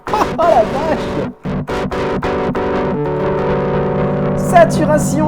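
An Akai MPC Live pushes a synth line through a saturation distortion effect, producing gritty, buzzing sustained tones with a few choppy stabs early on and steady loud drive afterward.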